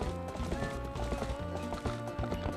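Hooves clip-clop in a steady, loud trot as a horse is ridden to herd goats in the video game Zelda: Twilight Princess, with music running underneath and no voices.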